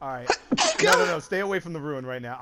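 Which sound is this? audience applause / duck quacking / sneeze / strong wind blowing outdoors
sneeze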